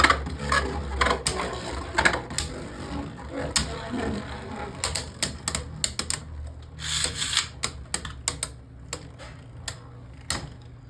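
Beyblade Burst spinning tops, Fierce Achilles among them, clash in a stadium. Sharp clicks and rattling impacts arrive in irregular clusters over a low steady whir, close and moderately loud, with no talking.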